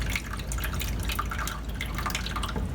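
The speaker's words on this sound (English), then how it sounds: "I'm now gonna pour water in here, make sure this pan is not leaking" Water poured into the drain pan of a Maytag Whirlpool refrigerator, a steady close splashing and trickling with dripping.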